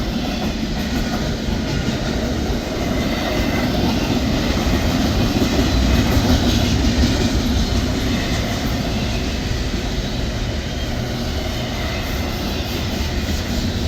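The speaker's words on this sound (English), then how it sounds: "Thought it'd be a cool backdrop, seeing a train go by the depot." An intermodal freight train rolls past an old railroad depot in Amherst, Ohio, making a loud, continuous rumble and clatter of wheels and cars that holds steady for the full fourteen seconds, with no voices.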